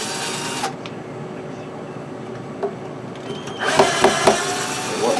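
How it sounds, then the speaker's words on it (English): Screws being worked loose from a Bose Acoustimass woofer cabinet, heard as scattered small clicks and scrapes over a steady low hum, then a louder burst of rattling, clattering handling noise near the end. "in order to get them all out, I think I'm going to have to unscrew this thing"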